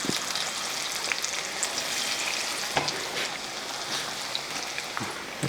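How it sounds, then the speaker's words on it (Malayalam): Steady, close sizzling of cauliflower frying in hot coconut oil, a dense crackling hiss with occasional sharper pops and stirring clatter. "വെളിച്ചെണ്ണ ചൂടായതിന് ശേഷം നമ്മൾ കോളിഫ്ലവർ അങ്ങോട്ട് ഇടും കൊടുക്കും"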